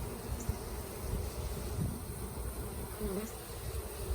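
A swarm of honeybees buzzes in a continuous, faint drone close by, with low rumbling wind noise underneath and no talk.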